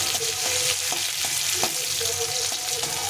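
Onion and green chillies fry in oil in a pan, giving a continuous close sizzle with spatula scrapes and stirring taps at a loose, repeated rhythm.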